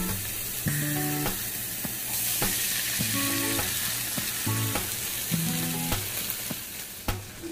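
Strips of pepper, shrimp and corn frying in a pan while being stirred, with a steady close sizzle broken by scraping stirs and a melodic tone running underneath.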